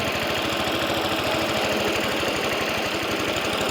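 A Ransomes Marquis cylinder mower engine runs at full throttle, giving a fast, steady knocking putter that stays loud and close throughout.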